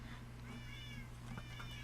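An ocelot cat in the Minecraft video game gives a couple of quiet, rising meows over a steady low hum, with no talk.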